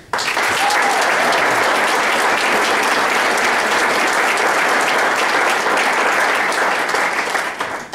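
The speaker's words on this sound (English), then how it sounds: "I would like to have another round of applause for Jim and for Franny for such a great job" Sustained audience applause at an award ceremony honoring co-chairmen, loud, dense and steady for about eight seconds before tapering off at the end.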